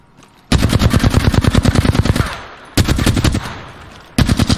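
Automatic gunfire in the Apex Legends video game, three loud, rapid bursts of shots close up with short pauses between them.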